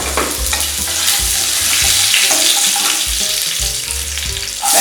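Curry leaves crackle and sizzle in hot oil with mustard seeds and urad dal, a dense, continuous frying hiss with sharp popping bursts, loud and close with no talking.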